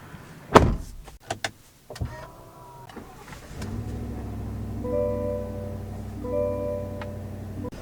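Climbing into a 2023 GMC Yukon Denali Ultimate: a door clunks open, a couple of knocks and thuds follow, then the door shuts and a steady electric motor hum with chimes fills the cabin.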